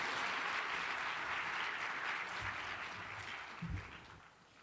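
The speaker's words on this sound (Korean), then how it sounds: "우리 더 크게 박수하겠습니다." A church congregation claps in sustained applause at a youth orchestra worship service, a dense steady patter that gradually fades, with a couple of low thumps near the end.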